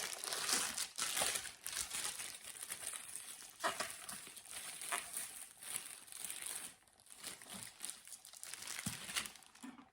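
A taped plastic parcel from Temu crinkles and crackles up close as it is pulled and torn open, with sharp tearing bursts scattered throughout.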